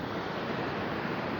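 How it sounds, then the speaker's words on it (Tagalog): Sea waves wash onto an Australian beach as a steady, close roar of surf mixed with wind buffeting the microphone, with no voices. "Guyurong ka ng dagat."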